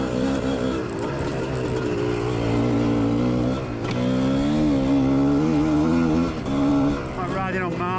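Motorcycle, a GPX, riding a loose, corrugated quarry track with a continuous engine drone that rises and falls in pitch as it changes speed, under a rider's talk.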